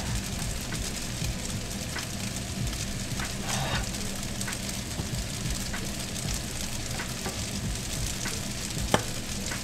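Garlic sizzles and fries with fish in a hot pan, a continuous crackling hiss with occasional sharper pops, close and loud with no talking over it.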